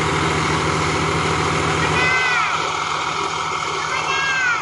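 Ghazi 65hp tractor engine idling steadily, a continuous low rumble close by while people talk over it in a rural Punjab village.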